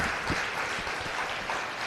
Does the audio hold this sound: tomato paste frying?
no